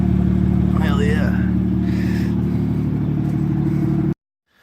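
A brand new BMW runs with a loud, steady low engine drone that holds for about four seconds and then cuts off abruptly, with a voice heard over it.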